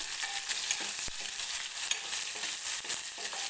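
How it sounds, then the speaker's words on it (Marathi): Curry leaves, garlic and onion fry in a tempering for dahi kadhi, a soft steady sizzle with scattered stirring taps and one low thump early on, close and quiet with no voices. "कडीपत्त्याची पानं आणि लसूण कांदा सुद्धा टाकून घेते"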